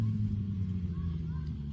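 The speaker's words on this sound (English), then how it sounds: "motorcycle going past" Motorcycle passing by outdoors, a low, rumbling engine drone that holds steady and fades slightly across the brief clip.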